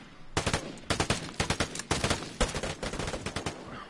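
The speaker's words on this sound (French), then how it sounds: "C'est un rafale, merde." Automatic gunfire in the video game Vigor rattles out as a rapid burst of closely spaced, sharp shots lasting a few seconds, heard alone without talk.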